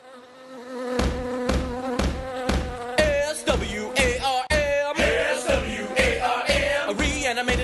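A buzzing swarm of bees as a sound effect: a loud, dense, droning hum that pulses with repeated sharp bursts throughout.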